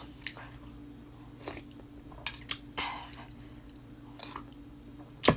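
Crab legs cracked and eaten close to the mic during a Thai spicy crab meal, with scattered crunchy bites and wet chewing spaced out over a low steady hum, and no talking.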